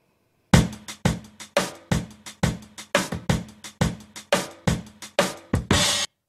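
A looping drum breakbeat, reinforced with layered single-hit kick and snare samples, pounds along steadily for several bars, with tight, punchy hits and no other sound.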